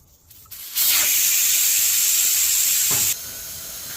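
Air rushes out of a tire valve stem with its core removed, one loud, close, steady hiss starting abruptly and holding for over two seconds before dropping to a softer continuing release.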